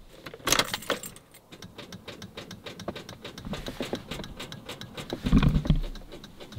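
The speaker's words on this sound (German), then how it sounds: "Da nimmst du deinen Schlüssel." Car keys jangle in a bright, rapid metallic rattle that continues through the whole stretch, close to the listener, with a heavier thump and rustle near the end and no talk.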